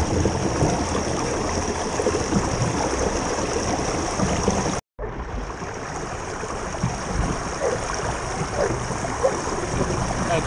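Steady rushing of river water flowing through a gold sluice box, with an even wash and rippling bounce over the riffles, loud and continuous apart from one brief dropout midway.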